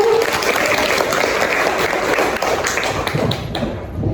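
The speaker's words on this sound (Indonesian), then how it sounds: "Boleh tepuk tangan semuanya?" Loud, dense applause from a school talk show audience of vocational students, a steady wash of many hands clapping that tapers off at the end.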